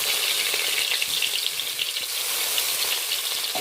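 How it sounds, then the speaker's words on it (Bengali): Grated onion fries in hot ghee over a low flame, giving a dense, continuous sizzle that stays even and close throughout, with faint stirring beneath it. "এই পর্যায়ে আমি গ্রেট করে রাখা পেঁয়াজটা দিয়ে দিলাম।"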